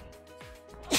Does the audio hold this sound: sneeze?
yes